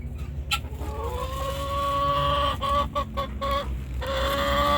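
A backyard hen clucks and calls in a repeated series of short, tonal notes, fairly close and clear over a steady low background hum, with no one speaking.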